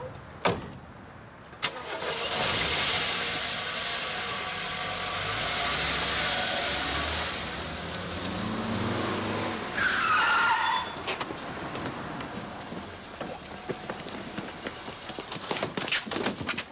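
A car engine cranks and starts in a 1987 German radio-play scene, then runs with a steady hum and pulls away, tyres scuffing as it drives off, fading somewhat toward the end without talk.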